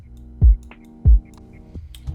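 Two heavy kick drum hits, processed with a compressor and soft clipper in FL Studio, boom loudly about half a second apart with deep punchy low end, followed by a softer third thump and faint background tones.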